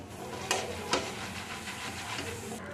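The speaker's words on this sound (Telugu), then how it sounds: "కరివేపాకు ఈ విధంగా క్రిస్పీగా ఫ్రై చేసుకోండి" Curry leaves frying crisp in hot oil in a pan, a steady close sizzle and hiss with two sharper spitting bursts near the start.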